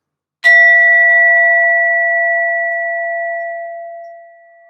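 A single bell is struck once for sound healing, giving a clear, bright tone that rings on and slowly fades over several seconds, with no other sound present.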